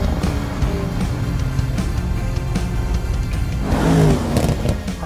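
A Mercedes-AMG CLA 45 engine revs hard while the car drifts on an ice track in Gimli, Manitoba, loud and close, with the pitch rising and falling and a strong surge near the end.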